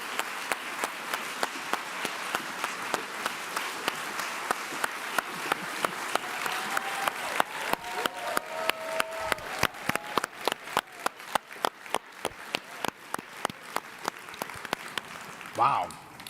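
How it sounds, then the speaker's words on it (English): Applause at a journalists' hall of fame induction settles into a rhythmic, steady clapping in unison, each beat sharp and regular, with a voice briefly heard near the end. "let's give her one more round of applause."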